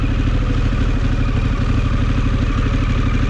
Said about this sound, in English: This bike idles in first pretty good. It just idles along, man.